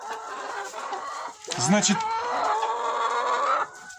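Pushkin breed chickens and a rooster cluck close by on a farm, a loud burst of squawking and clucking in the middle over steady background hens, while someone speaks briefly.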